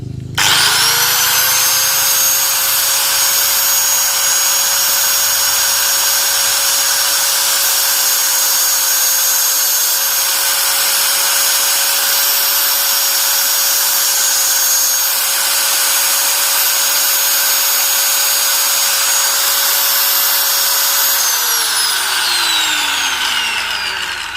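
A drill bit being sharpened on a powered grinder while repairing a rat trap cage, giving one loud sustained whine that holds a steady pitch for about twenty seconds, then winds down at the end.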